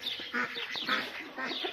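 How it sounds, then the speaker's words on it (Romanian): An old blue duck quacking repeatedly in a farmyard at evening, a close, steady run of raspy calls. "La rață mi-am făcut și maca, care o voi ține pentru la anul, rața asta albastră bătrână, asta de aici"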